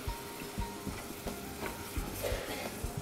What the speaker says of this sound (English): Now we're going to add the wine